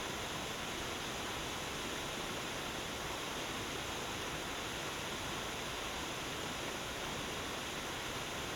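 Water pours over the waterfall and runs along the stream at Bear Run beneath Fallingwater, a steady, dense broadband rush with no breaks, heard alone at moderate distance.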